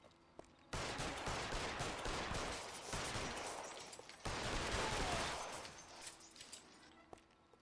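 Gunfire in the video game L.A. Noire, two long loud bursts of rapid, dense shots, each cutting in abruptly and fading, over quiet background.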